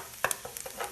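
Flour cooking in sausage grease in a pan for sausage gravy, with a few quick, close scraping stirs and a soft crackling sizzle underneath.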